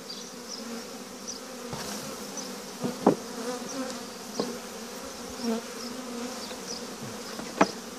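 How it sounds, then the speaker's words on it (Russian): Honeybees buzzing steadily as they are shaken off hive frames during a spring hive inspection, a dense continuous drone with a few sharp knocks and bumps. "пчелок, стряхиваем, которые остались на рамках."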